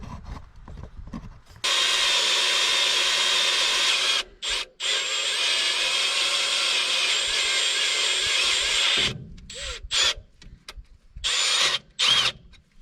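A power drill bores a 1/4 inch hole through cast metal, with long loud whining bursts of the motor broken by short stops and restarts, then a string of quick stuttering pulses near the end.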